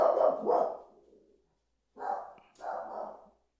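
A dog barks nearby in a few loud bursts, a pair of quick barks, then a pause, then two more, with no talking over them.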